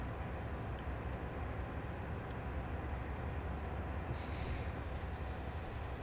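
A parcels train of three carriages running from York to Newcastle on the East Coast Main Line in a train simulator, a low, even rumble of wheels and engine with a brief hiss partway through.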